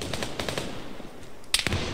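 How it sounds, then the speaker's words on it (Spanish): Enemy gunfire in the military shooter ArmA 3 cracks out in rapid bursts, a string of fairly distant shots followed by two sharper, closer reports, with no talk over it. "nos está disparando alguien"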